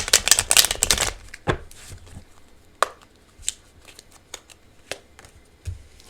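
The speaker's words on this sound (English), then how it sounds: "one more shuffle" A quick burst of tarot cards riffling together, loud and close, followed by scattered soft taps and slaps as cards are handled and laid down.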